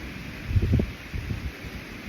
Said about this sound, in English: It's super windy, but I'm up in a tree and it's swaying back and forth.